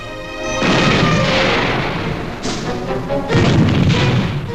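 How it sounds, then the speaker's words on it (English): A giant self-propelled cannon fires, two loud booming blasts with rolling, rumbling echoes, the second shot about three seconds after the first. "the giant gun can fire up to 15 rounds a minute"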